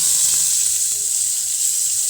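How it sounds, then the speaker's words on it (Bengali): Eggplant drops into hot oil in a home kitchen where eggs were just fried, producing a loud, continuous bright sizzle with faint spattering pops and no talking. "তেল ছিটকাইতেছে।"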